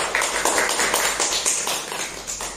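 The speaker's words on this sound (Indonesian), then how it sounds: "kasih aplaus untuk kelompok 1" A classroom group claps for the first group after its presentation, a dense, steady patter of many hands lasting a couple of seconds and tapering slightly at the end, with no talk over it.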